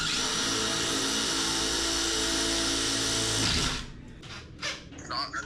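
A power drill whines loudly and continuously during a Tapo CCTV camera installation into a hard wall, then cuts off, leaving scattered knocks and handling noises as people talk.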